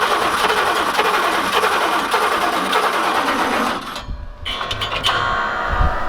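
Old engine at an abandoned racetrack cranking over on a flooded carburetor, a steady, loud, buzzing churn that runs for several seconds, then cuts out abruptly, followed by a few low thumps and faint rumbling.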